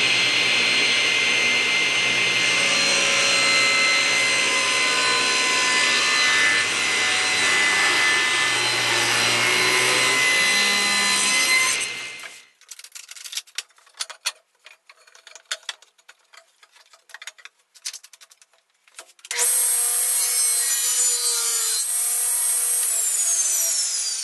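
A saw cuts through a wooden table leg clamped down at one end, a loud steady tool whine and cutting noise for about twelve seconds, a few seconds of sparse clicks and knocks, then the tool runs again.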